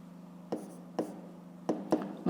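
Pen strokes scratching on paper during a fifth-grade maths exercise, four short bursts spaced unevenly against a quiet background hum, close and fairly soft.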